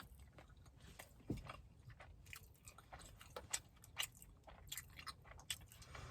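Close-up chewing of a lemon bar mochi donut, soft sticky bites with scattered crunchy clicks and squishes over several seconds, no talking.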